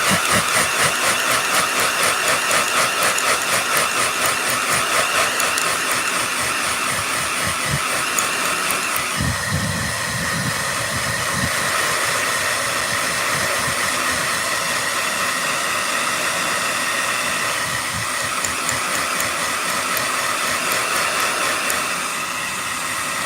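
A handheld blow dryer runs continuously for the full stretch, a loud, steady motorized whir with a brief change in pitch partway through, alone without talking.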